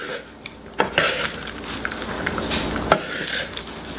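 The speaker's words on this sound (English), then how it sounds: "I'm going to mix this salad up" Salad being tossed in a bowl, with scattered soft clinks of utensils against the bowl and light rustling of leaves, fairly quiet and close, no talk.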